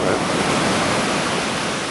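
Ocean surf rolling onto the beach at Anglet, waves around 1.3 to 1.5 m at high tide, a steady broadband wash of breaking water with no clear individual crashes, loud and continuous throughout.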